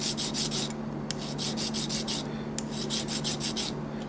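Serrated dive knife edge being sharpened with a rod, a series of short rhythmic rasping strokes in quick bursts, close and clear, with a brief pause midway and no talk.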